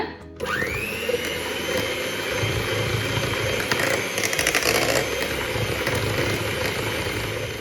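An electric hand mixer whirs steadily as it beats a homemade ice cream mixture flavoured with vanilla, a constant high motor whine with a brief surge near the middle and no talk.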